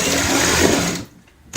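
Sewing machine stitching layered fabric pieces together for a homemade door mat, running in a fast, loud, continuous burst for about a second before cutting off into near silence.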